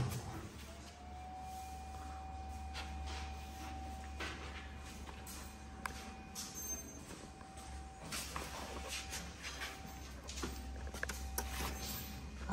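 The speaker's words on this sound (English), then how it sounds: "Now we are going to start this machine." A wooden ice cream spoon selecting machine for 75 mm sticks starting up and running, with a steady whine and hum, a low drone, and scattered clicks and clacks of mechanical handling, fairly quiet throughout.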